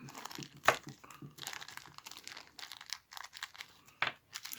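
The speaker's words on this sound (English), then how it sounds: "It's a fiddly wee bag to get open." A small plastic parts bag for a Zzeta Tuning reel part is crinkled and torn open close up, giving quiet irregular rustles with a few sharper snaps of plastic.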